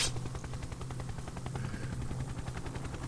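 A small helicopter in the browser game Happy Wheels gives a steady, rapid rotor chop with a fast pulsing beat, loud and close, running throughout without talk.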